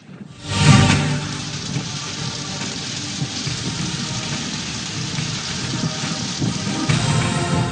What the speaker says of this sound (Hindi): तेज आंधी, मूसलाधार बारिश और जालाबारी ने कई शहरों को लपेट में ले लिया